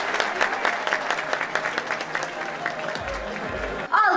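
An audience at a jewellery show gala in Antalya applauds in a dense, steady wash of clapping that carries on throughout and swells slightly at the very end.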